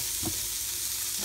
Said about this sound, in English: We're going to add the avocado oil into the bottom of the Instant Pot. Instant Pot's been heating. It's on the saute portion right down here. And I'm going to add my onions,